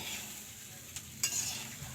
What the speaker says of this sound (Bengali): ওই দেখো কী করছো? ছোলা ভাজি করছে।